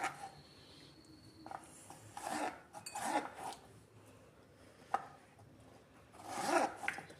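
A knife chops vegetables for fries on a board in a quiet home, giving faint, irregular cuts and scraping rubs with brief soft clatters spread through the clip.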